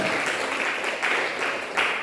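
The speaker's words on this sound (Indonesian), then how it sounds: "Beri tepuk tangan." Loud, continuous clapping from a church congregation during a sermon, a dense even roar with slight surges in intensity, no voices standing out.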